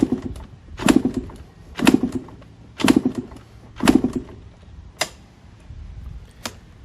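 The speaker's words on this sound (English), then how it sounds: "keep it open while you kick the bike over 5 to 10 times" A Yamaha YZ125 two-stroke motorcycle is kicked over repeatedly without starting during a compression test, giving about four strong, evenly spaced thumping kicks roughly a second apart, then a couple of fainter ones, heard close with no talking.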